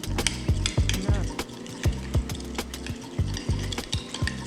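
Spoon stirring a dill coating with lemon juice in a bowl for mahi mahi, giving a steady run of close scraping and clinking knocks, moderately loud with no talk.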